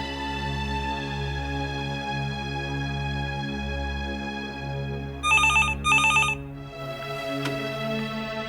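Two short bursts of an old-style telephone bell ring out over a soft, steady musical background in a TV drama.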